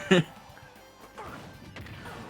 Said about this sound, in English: He just F-smashed over there.